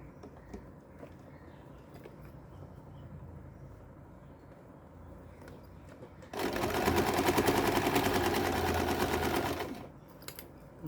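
A sewing machine stitches a fabric organizer pouch, starting abruptly into a steady, loud mechanical whir for about three seconds before stopping, with quieter handling noise before and after.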